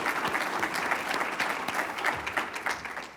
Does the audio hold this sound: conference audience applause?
yes